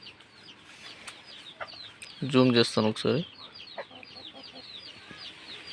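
About fifty native country chickens under a fruit tree cluck and call, with a louder burst of close squawking in the middle and softer scattered clucks around it, while someone speaks briefly.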